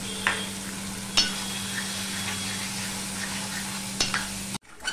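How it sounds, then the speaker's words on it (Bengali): Soaked chickpeas stirred into partly cooked masala for a vegetarian papaya dish, giving a steady frying hiss with a few sharp spoon scrapes before it cuts off near the end. "এখানে আমি 1 বাটি ছোলা নিয়ে নিয়েছি, ভেজানো ছোলা, সেটা আমি দিয়ে দিলাম"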